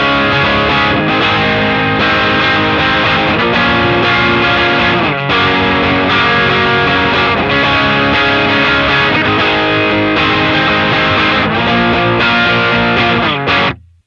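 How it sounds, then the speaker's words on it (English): Electric guitar played through a distortion pedal into a Dr. Z Maz18 Jr amp, a thick, saturated tone of sustained chords and riffs lasting over ten seconds, loud and continuous before cutting off abruptly at the end. "So let's go right here to our distortion and turn this guy on."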